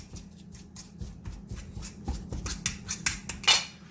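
Tinned mackerel being mashed and broken down into a fine crumb for Jamaican fritters, giving rapid close scraping and clinking of a utensil against a bowl in an irregular rhythm that grows busier toward the end.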